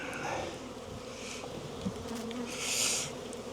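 Honey bees buzz steadily around an open hive during a spring inspection of an insulated condensing hive, a continuous close drone with a louder swell of nearby bees near the end.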